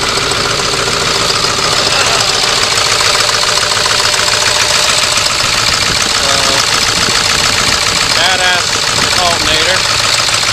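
A Ford 7.3 diesel running about 600 horsepower with an S468 turbo and dual fuel pumps idles after a cold start, a loud steady rumble with a knocking edge as people talk over it.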